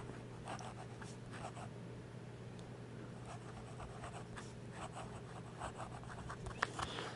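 Pen scratching by hand across a journal page in quick, continuous hurried strokes, close and quiet, with small irregular scrapes and taps and no voices.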